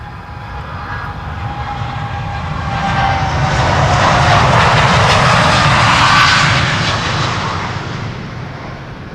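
A TUI airliner takes off from Schiphol's Polderbaan runway, its engine roar loud and close, swelling to a peak midway and then slowly fading, with no talk.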